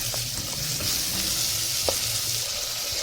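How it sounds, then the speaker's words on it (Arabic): Peppers and onion sautéing in a pan with salt, a steady close sizzle and frying hiss running throughout with occasional soft stirring clinks, no voices. "الفلفل بقى اتشوح مع البصلايه، بس تشويحه كده مع البصلايه"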